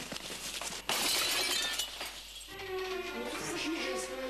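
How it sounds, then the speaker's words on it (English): Glass shatters loudly in a house at night as a window is smashed, a sharp crash followed by scattering, tinkling shards that keep sounding for several seconds. "the terrifying sound of glass breaking"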